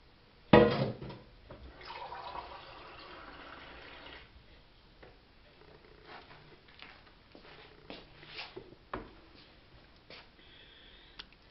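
Water poured into a pot of risotto in a home kitchen, a few short splashy pours and trickles with soft clinks between them, fairly quiet and close, no speech.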